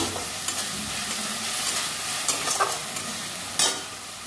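Potato and eggplant frying in spiced paste with green chili, a steady sizzle under occasional stirring scrapes near the pan, with a few sharper clatters toward the end.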